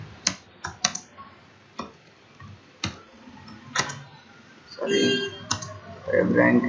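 Several keystrokes typed into a computer keyboard, clicking into a web store search box, sounding as sparse, separate taps close by, then a short run of quicker clicks, with speech heard alongside toward the end.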